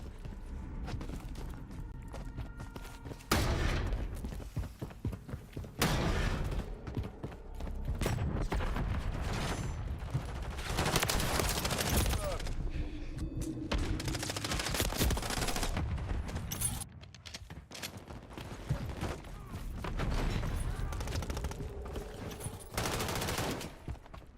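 Multiplayer battle in Modern Warfare III, with sustained automatic gunfire and scattered single shots rattling loudly in bursts, mechanical clacks in between, and almost no talking.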